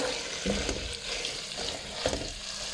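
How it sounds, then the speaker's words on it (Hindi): Diced potatoes frying on medium flame in a pan for Punjabi-style aloo gajar matar sabzi, a steady close sizzle with occasional stirring scrapes and clinks, no voices. "3 मिनट मीडियम फ्लेम पे आलू की अच्छी तरह बुनाई करेंगे।"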